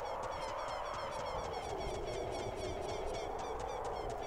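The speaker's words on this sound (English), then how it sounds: "The birds sure are thriving, very noisily." Dense, noisy bird calls fill an Ocarina of Time game scene, a steady chorus of chirps and squawks running continuously and loudly throughout with no speech.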